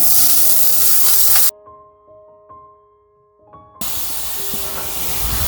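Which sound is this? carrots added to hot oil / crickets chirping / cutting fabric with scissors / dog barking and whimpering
carrots added to hot oil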